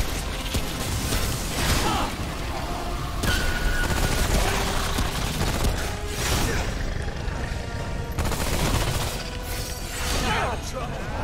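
Sustained gunfire in the video game Remnant: From the Ashes, dense volleys of shots with whooshes and crashes rolling on loudly throughout, mixed with game effects.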